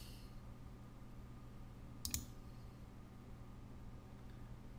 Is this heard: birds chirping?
no